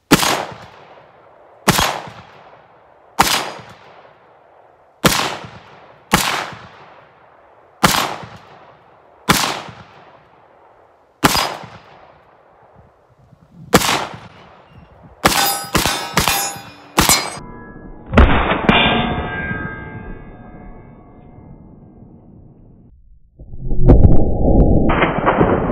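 A pistol with a 7-inch barrel and muzzle brake empties a full magazine at steel targets: about ten loud, sharp single shots at steady intervals, then a quick cluster of rapid shots, with bright metallic ringing after each hit.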